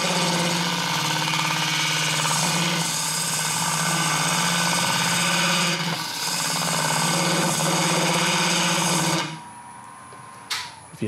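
A ring tool cutting up the sidewall of a wooden bowl on a wood lathe gives a loud, continuous rough buzzing drone with brief dips, ending abruptly into near quiet.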